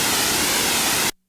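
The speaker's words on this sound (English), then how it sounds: "So here's the noise of the DW-8000." A Korg DW-8000 synthesizer producing loud, steady hissing white noise that cuts off abruptly near the end, leaving silence.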